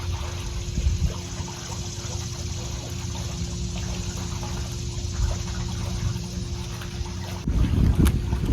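Strong wind buffets the microphone outdoors on a Virginia vacation, a steady low rumbling roar throughout with a heavier gust near the end.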